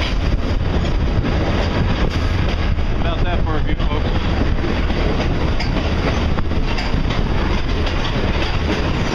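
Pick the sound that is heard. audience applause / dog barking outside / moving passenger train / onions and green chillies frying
moving passenger train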